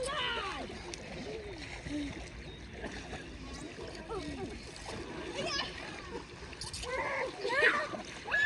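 A child splashes in river water while trying to swim, irregular close splashes and paddling scattered through the clip, with children's voices and talk mixed in over faint outdoor ambience.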